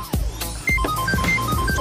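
A phone ringtone playing as a bright electronic melody of short tonal notes with some percussive hits underneath, loud and close, without speech.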